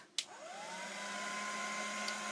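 A heat tool melting embossing powder on a card-crafting project starts with a click and then runs as a steady, close, even blowing whir, with no talk.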